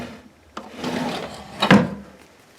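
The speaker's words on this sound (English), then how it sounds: "the drawers just slide out like this" Wooden drawers slide out from under a homemade bed with a close, rubbing wooden scrape that swells and ends in a short knock as they stop.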